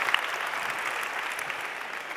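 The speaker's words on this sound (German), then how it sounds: "Yeah, we can clap." A church congregation at a Sunday session claps together, a short burst of steady applause spread across the room, moderately loud and without talking.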